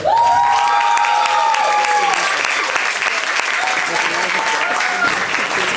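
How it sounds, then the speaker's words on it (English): A crowd at an opening ceremony cheers and claps loudly and continuously, with high excited shouts rising over the sustained applause throughout. "if you're a snail, give a big cheer"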